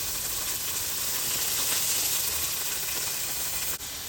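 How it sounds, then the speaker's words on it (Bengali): Onion frying to a light brown in a pan, giving a steady, loud, even sizzle and hiss that continues without a break and drops off briefly near the end. "এখন আমি সামান্যভাবে হালকা বাদামি করে পেঁয়াজটা ভেজে নেব।"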